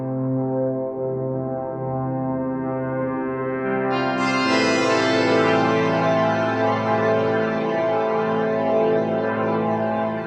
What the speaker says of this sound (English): Parallel to a delay into a reverb into a chorus.